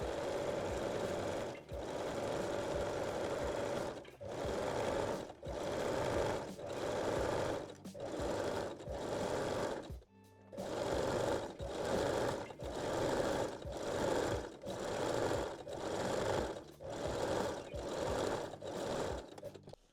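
A domestic sewing machine stitches elastic onto the waistline of a lingerie panty, running in long steady bursts with brief pauses between, loud and close, with no voices.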